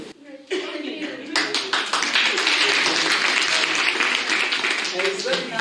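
Children in a classroom break into a burst of clapping that carries on steadily for several seconds, with voices and laughter mixed in.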